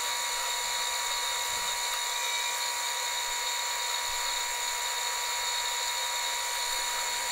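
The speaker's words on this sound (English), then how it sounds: "filing it to a round on the lathe using an even smaller file" A small file works a brass pen part spinning on a lathe, giving a steady, continuous high-pitched whine and rasp at an even level throughout, with no talking.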